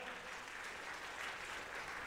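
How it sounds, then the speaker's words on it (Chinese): Warm applause from a church congregation during a Sunday worship service, a steady dense wash of clapping hands filling the room throughout, with no voices standing out. "再一个热烈掌声鼓励他们来"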